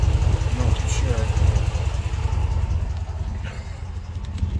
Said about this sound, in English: Maybe that might be an exhaust tick.